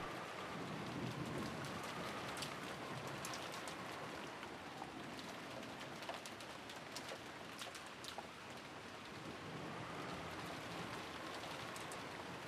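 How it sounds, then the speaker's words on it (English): Steady rain falls on a rose garden in the Umineko visual novel, a soft, continuous hiss of drops with scattered louder patters and faint low rumbles, gentle and unbroken with no voices. "disappeared beneath the sound of the rain"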